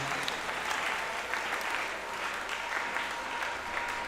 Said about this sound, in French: Reçois les acclamations, Seigneur, pour cette position-là.